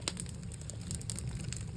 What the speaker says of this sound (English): those are sauteing nicely in there